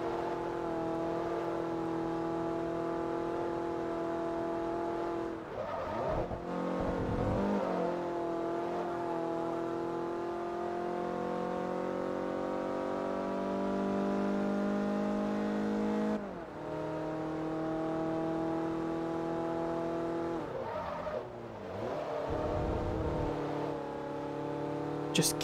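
Race car engines in Forza Motorsport 3 roar steadily and loudly through a long race, with smooth rising revs and brief drops at gear shifts, while someone talks over them now and then.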